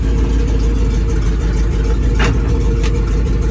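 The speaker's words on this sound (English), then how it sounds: "see if it grinds going into gear" A 1963 International Loadstar 1800 truck engine running with a steady low rumble, close and loud, with a couple of brief mechanical clunks as it is shifted into gear.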